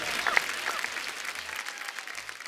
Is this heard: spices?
no